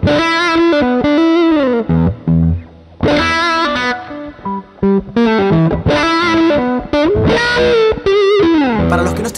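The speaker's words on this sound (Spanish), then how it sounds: "imitar el sonido de un pedal de wah sin tener uno" Distorted electric guitar played with a wah-like sweeping tone produced without a pedal, loud, close phrases of chords and notes with short gaps, the vowel-like filter movement rising and falling.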